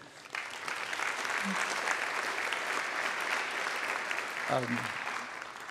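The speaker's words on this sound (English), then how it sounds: "So a round of applause for CJ." An audience at a talk on the graphical web applauds for several seconds, a dense and fairly even wash of clapping. A brief voice cuts in near the end.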